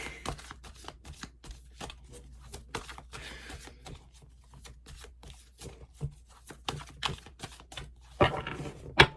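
Crisp rapid clicks and flutters of a deck of tarot cards being shuffled up close for a pick-a-card reading, in repeated irregular bursts with a louder riffle near the end.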